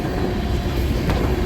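Norfolk Southern freight train 11R rolls past in New York state, a loud, dense, continuous rumble of railcars and wheels close by, steady throughout with no voices.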